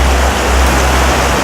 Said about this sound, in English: This is a creek that runs through our campground